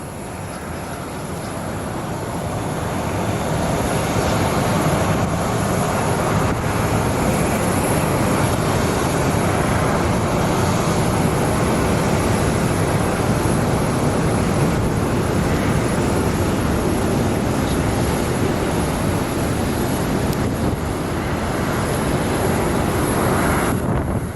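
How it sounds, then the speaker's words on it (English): Southwest airliner Freedom One, painted in an American flag livery, landing at Sky Harbor International Airport at night, a broad steady jet roar swelling in over the first few seconds and holding loud and continuous, with no talk. "we're trying to get the plane landing for you"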